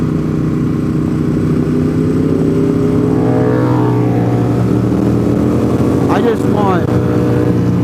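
Ducati V4 motorcycle engine on a mountain road, a loud rising and falling engine roar passing close by, heard from another rider's position amid continuous wind and engine noise.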